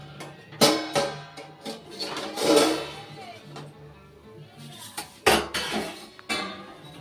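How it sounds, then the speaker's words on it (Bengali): A metal plate used as a lid is lifted off a pizza cooked on the stovetop, giving several loud metallic clanks and scrapes spaced unevenly across the moment, with quieter handling between. "এবার আমি ঢাকনাটা খুলছি।"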